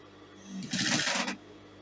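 A sewing machine gives one short, loud burst of stitching, under a second long, while securing a shoulder ruffle, with quiet before and after.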